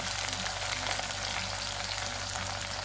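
Finely chopped onion and tomato pieces frying in a pan for a dhaba-style shev bhaji, a dense, steady sizzle that stays loud and close throughout, with no talking.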